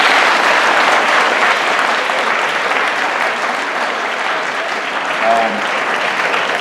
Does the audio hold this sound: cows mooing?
no